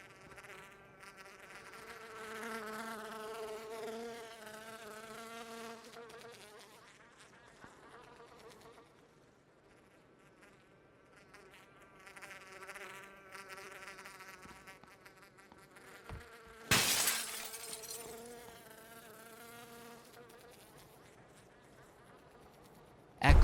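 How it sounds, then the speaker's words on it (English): Flies buzzing in a video game soundtrack, a loud, droning insect hum that wavers and swells for the whole stretch, with a sharp burst of noise near the end. "Flies don't live inside your ears like this."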